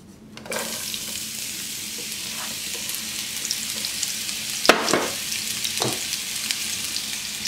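Onions sautéing in olive oil in a frying pan over medium heat, a steady close sizzle with a few sharp stirring clicks and scrapes partway through.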